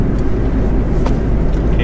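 A Tata car being driven with its engine running, heard from inside the cabin as a steady, loud low rumble of engine and road noise with no pauses and no talking.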